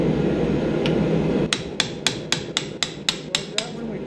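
A hammer drives a slitting chisel into hot forged steel to shape a 3D snowflake, giving about ten sharp, evenly spaced metallic strikes that ring out close and loud.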